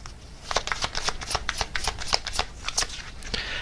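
A deck of tarot cards being shuffled up close, a rapid run of crisp riffling flutters and soft slaps lasting a few seconds, with no talking.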